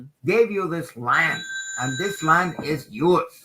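A telephone rings with steady high electronic tones for roughly a second during a call, sounding under continuous male speech that carries on throughout.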